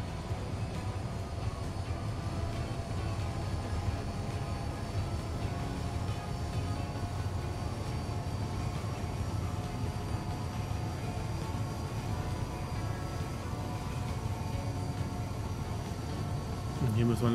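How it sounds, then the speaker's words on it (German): Train pulling away in the video game Transport Fever 2, a steady low rumbling rolling drone with faint rail hum that runs unbroken throughout, a voice talking over it. "So, Zug fährt wieder los."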